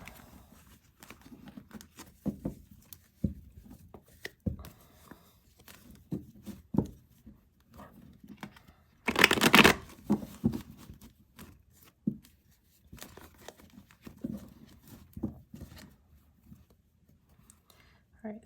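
A double deck of tarot cards is handled, tapping and shuffling in soft, scattered patters, with one brief louder riffling burst midway, under and between a person talking.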